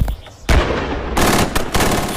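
French army weapons fire during training in hills, heard as loud, sharp bursts of gunfire in quick clusters, close and harsh, with no voices.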